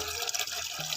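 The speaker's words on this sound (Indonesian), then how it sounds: "Kemudian siram tanaman jagung yang telah tumbuh dari beberapa hari terakhir" Water is poured onto young growing corn plants, a short, close, steady splashing pour with no talking.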